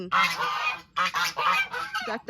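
A few geese on a Texas ranch honk loudly and close by in three or four quick bursts, with no one talking.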